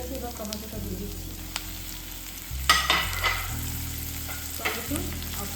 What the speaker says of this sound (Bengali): এবার টমেটোটা দিয়ে দিচ্ছি।